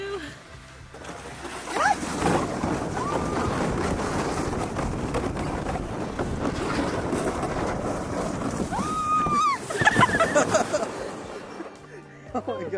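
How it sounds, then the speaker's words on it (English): Sleds rush down a snowy slope in Fairbanks, Alaska, in a race, with a continuous loud scraping roar of runners on snow and wind buffeting the microphone, joined by shouts and laughter near the end. "First sled ride, Amy and I are racing"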